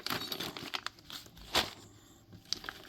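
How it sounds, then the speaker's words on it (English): Close, irregular crinkling and rustling of plastic being handled, with a few sharper crackles. "I keep a lot of the stuff in this plastic bag here"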